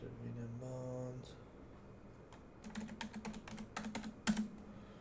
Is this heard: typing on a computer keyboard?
yes